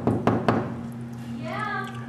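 Three sharp knocks on a hotel room door sound close up in a quick, even sequence, followed by a quiet steady hum with a faint voice rising at the end.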